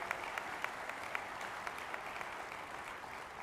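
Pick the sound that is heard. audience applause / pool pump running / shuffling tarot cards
audience applause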